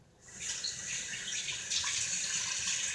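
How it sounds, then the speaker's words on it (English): A kitchen tap runs steadily while hands are rinsed under it, a close, even hiss of water that starts abruptly and continues to the end. "so rinse my hands off again"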